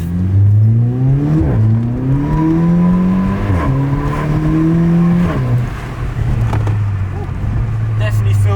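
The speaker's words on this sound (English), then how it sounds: "we're now taking it for a drive" A Volkswagen Polo GTI is driven on a test drive after an oil leak repair, its engine note climbing and dropping repeatedly through gear changes, loud and steady from inside the car.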